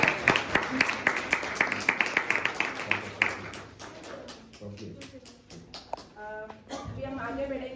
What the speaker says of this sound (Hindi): एक बार जोरदार ताली हो जाए जो सबके लिए पार्टिसिपेट किया है।